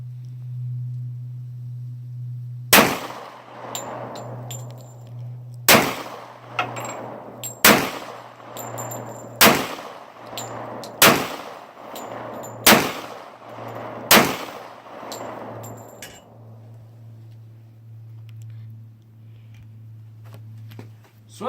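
Handgun fired in a series of eight sharp, loud shots spaced roughly evenly about every one to two seconds, each with a ringing decay, over a steady low hum.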